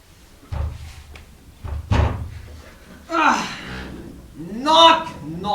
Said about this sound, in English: Why, here's a knocking indeed.